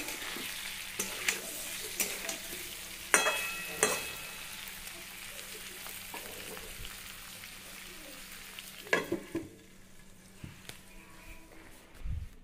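Bitter gourd, potato and fish head curry stirred in a pan, with steady frying sizzle throughout and occasional clinks and scrapes of a spoon against the pan, close and moderately loud with no talking.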